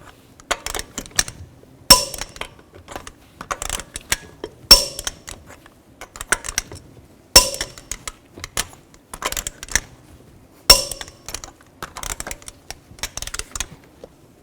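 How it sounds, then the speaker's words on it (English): A torque wrench tightens the lug nuts on a 2007-2016 GMC Acadia front wheel to 140 foot-pounds in a star pattern. It makes close, sharp ratcheting clicks in irregular bursts with brief pauses, and there is no talk. "Now I'm going to torque these lug nuts to 140 foot-pounds in a cross pattern or a star pattern to tighten the wheel down evenly."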